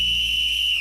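A single shrill, steady whistle blast, loud and close, held for under a second.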